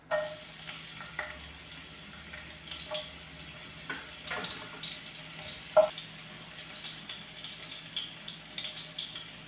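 Garlic frying in oil for chilli chicken, a faint steady sizzle with scattered light clicks and clatters of a utensil against the pan, fairly quiet and close.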